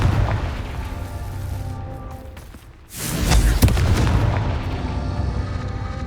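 A Confringo spell explodes in the Hogwarts Legacy video game, a sudden loud boom about halfway through that cuts into a muffled rumbling game ambience and then trails off into a lingering roar.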